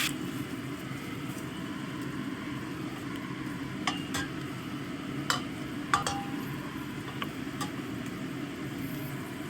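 Shrimp frying in a pan while cooking Sipo Egg, a steady close sizzle with a few sharp clinks and scrapes of a utensil against the pan; no talking.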